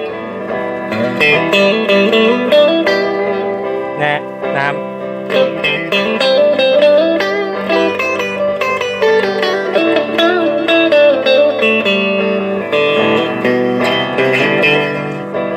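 An electric guitar plays clean-toned chords and melodic runs, loud and close, with a brief spoken word in passing.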